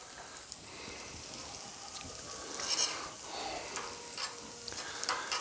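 Butter sizzles on a Blackstone griddle with the burner turned up to high while shrimp fried rice is cooked, a steady hissing crackle with scattered sharper pops and stirring scrapes up close.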